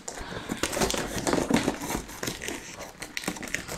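Cardboard and plastic packaging of a new webcam being ripped and crinkled open by hand, a steady run of close, crackly tearing and crumpling bursts over about four seconds.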